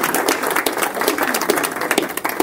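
An audience claps after a talk on fighting Common Core, a dense burst of applause filling the room, loud and close, with no voices above it.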